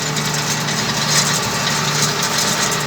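Renault tractor engine idling steadily with a rake hitched behind, a continuous low drone with a hum and a faint knocking vibration, close and loud with no talking.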